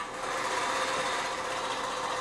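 A Brother 1034DX serger runs continuously, stitching fabric for baby bell bottom flare pants with a fast, even mechanical whir close to the microphone.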